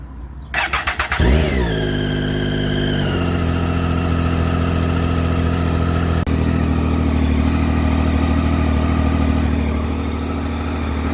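A 2012 Triumph Street Triple 675 R motorcycle, just fitted with a new stator and rectifier, cranks for a moment, fires up with a brief rev, and then settles into a loud, steady idle close by.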